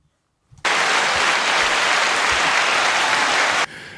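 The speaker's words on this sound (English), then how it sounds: "Applause, man." Crowd applause at a fishing tournament recap bursts in suddenly and holds as a dense, loud, steady clapping wash for about three seconds, then cuts off abruptly with no talk.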